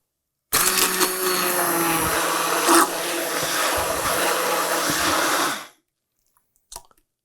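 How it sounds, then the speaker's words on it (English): A handheld stick blender whirs steadily for about five seconds while pureeing pear for a pear martini, a loud continuous motor drone that starts abruptly and cuts off, followed by a faint clink. "I'm going to use my handy dandy stick blender"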